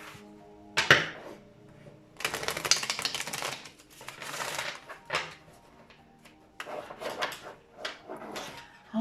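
A deck of tarot cards being shuffled by hand indoors, heard as bursts of crisp riffling and flapping separated by short pauses, close and fairly quiet with no talking.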